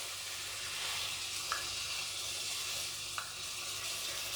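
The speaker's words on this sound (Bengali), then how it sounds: "এবার আমি এর মধ্যে প্রথমে 4 চামচ পরিমাণ দুধ দিচ্ছি।" Milk spooned into an atta laddu mixture in a pan on a low flame gives a steady, moderate sizzle, with a couple of small clinks from stirring.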